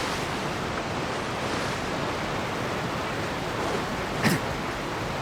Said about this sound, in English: The water is so loud.